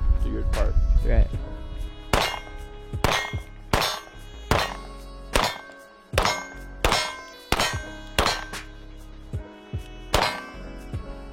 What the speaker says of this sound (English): This time we're going to shoot some gold dot duty ammo.